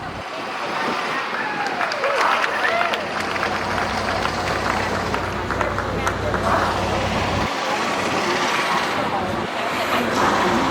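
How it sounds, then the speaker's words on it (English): Passengers aboard an architecture boat tour in Chicago applaud their tour guide, a broad wash of clapping and crowd noise that runs steadily throughout, mixed with outdoor traffic and engine rumble from the river setting. "thank you for that warm and sincere applause"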